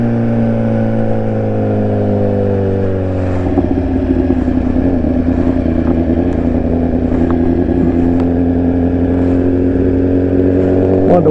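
A BMW car engine is heard close up from inside the car as the driver rolls off the throttle. A steady, loud droning note gives way to a rougher, lower, burbling clatter.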